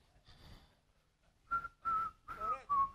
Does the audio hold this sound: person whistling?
yes